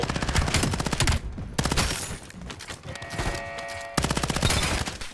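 Rapid bursts of automatic gunfire from the video game Black Ops 7, loud and close, firing in dense repeated volleys with brief pauses between them.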